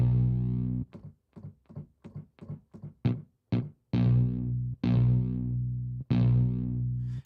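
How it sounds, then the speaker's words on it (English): Synthesizer notes run through distortion, starting with a long held tone, then a run of short clipped stabs, then longer sustained notes whose gritty character shifts as each one fades. "you can hear the way that as the volume drops from the signal, it's affecting the distortion quite differently"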